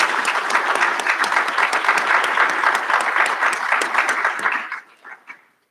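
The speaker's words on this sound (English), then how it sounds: "Give yourself a round of applause." Graduates of the class of 2021 applaud at a recognition ceremony at Old Westbury with a dense, steady round of clapping that thins and dies away near the end.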